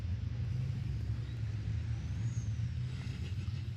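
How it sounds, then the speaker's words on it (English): Racing trucks at Pembrey circuit sitting on the grid, a low, steady engine rumble heard faintly at a distance with no talking over it. "Trucks will stop on the grid first of all."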